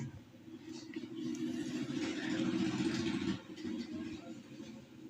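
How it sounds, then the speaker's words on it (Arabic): Street traffic heard from indoors, with cars and tuk-tuks passing outside as a low engine rumble that swells and fades over a few seconds, fairly faint and muffled behind walls. "عربيات رايحة وتكاتك جاية."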